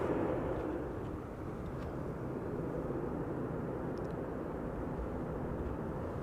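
Heavy airliners on approach to Amsterdam Schiphol give a low, distant, steady rumble, faint and unbroken throughout.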